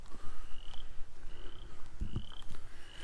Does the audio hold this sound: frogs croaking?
yes